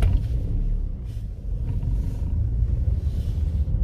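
A car rolls into a space in a large car park at night in Ireland, its engine a steady low rumble with no one speaking.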